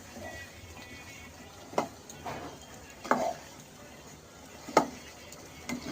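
Meat being stirred in a cooking pot, a few distinct scraping clanks of a spoon against the metal spaced a second or so apart over a quiet low background, close and without talk.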